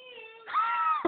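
A man imitates a cat's meow with his voice, a drawn-out nasal mew held for about half a second after a brief lower voiced lead-in, ending with a short thump.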